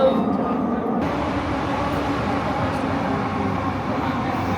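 A Mumbai metro train pulls in, a loud steady rumble of wheels and motors filling the platform throughout, with a sudden rise in brightness as it arrives.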